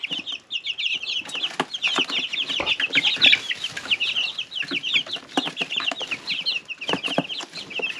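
A group of young chicks fills a brooder with dense, continuous high peeping and chirping. Scattered light taps and scratches run through it, close by and with no speech.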